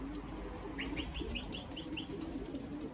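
Pigeons at a racing loft give a run of about eight short, evenly spaced calls over a low steady background hum. The birds are fairly close and no one speaks.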